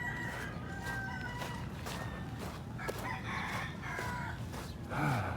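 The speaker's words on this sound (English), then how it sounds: "And of course, roosters." Roosters crowing near a Philippine beach, several drawn-out calls rising and falling over chicken clucks and outdoor background noise, moderately distant and fairly faint.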